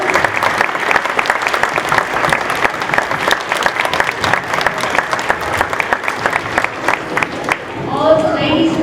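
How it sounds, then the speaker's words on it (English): A school assembly crowd applauds the elementary school music program at a Veterans Day event, a steady dense clapping that runs nearly the whole time, then thins at the end as sounds of the hall take over. "we just want to give a big round of applause to our music program"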